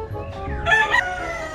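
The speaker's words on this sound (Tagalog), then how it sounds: "Ito yung ilan sa mga manok ni Boss Agatan." A rooster on a game farm lets out a single short crow, clear and fairly close, over a low background murmur.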